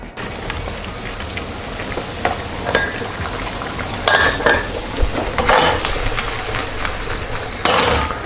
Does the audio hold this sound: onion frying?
yes